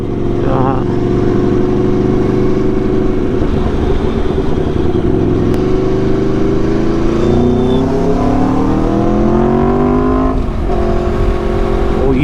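Car engine revving as the accelerator is pressed, a loud continuous drone whose pitch climbs and settles across the clip, with a voice speaking over it.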